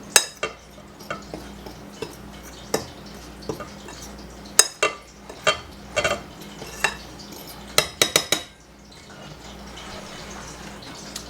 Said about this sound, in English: we're just going to add in our seasoning to our flour. And just give that a mix.